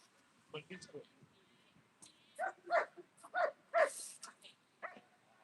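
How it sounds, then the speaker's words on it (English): Several dogs bark and yip in quick, irregular bursts, fairly close, with someone speaking quietly before them. "Some doggies."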